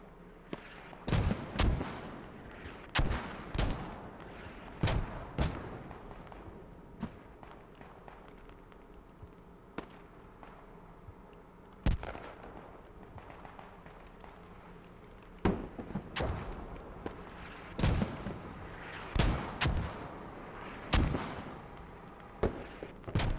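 Mortar and artillery fire in Squad, heard as scattered sharp booms and cracks at irregular intervals, some loud and close and others more distant, over a quiet background.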